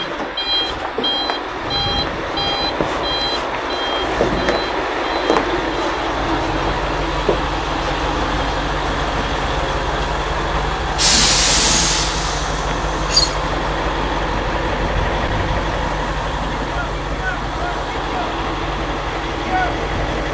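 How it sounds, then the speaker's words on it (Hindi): Sany 100-ton mobile crane backing up, its reversing beeper sounding steadily at a moderate distance over low engine rumble and outdoor noise, with a brief louder burst partway through. "तो हमारा गाड़ी जो है देखिए पीछे की ओर जाने लगेगा।"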